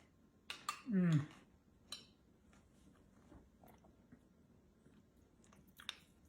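Spoon clinks against a bowl of homemade chili with sour cream, cheese, jalapeno and corn chips, followed by soft chewing and a few faint scrapes, close and quiet with a brief murmur of voice.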